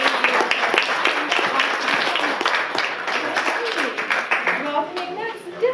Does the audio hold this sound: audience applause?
yes